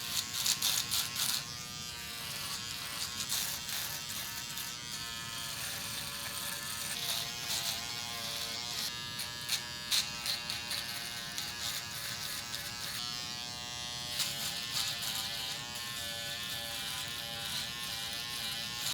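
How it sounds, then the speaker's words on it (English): A Stylecraft Uno electric shaver buzzes steadily while shaving a beard, close up, its motor tone shifting and stuttering as it passes over the stubble over nearly twenty seconds. "This is the Uno shaver by Stylecraft as well."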